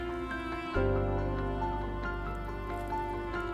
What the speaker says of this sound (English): Stick in our marker, go, and give it a quick water.